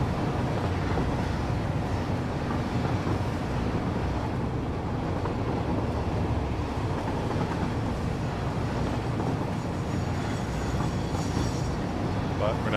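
Train rolling along a rail line in the video game Satisfactory, a steady dense rumble and rattle of wheels and cars that continues unbroken and fairly loud throughout.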